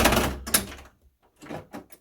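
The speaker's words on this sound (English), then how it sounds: "And opened the door." A door swings open after being unlocked with a hand-held Covid Key, a short loud latch click and creak followed by fainter knocks and rustling.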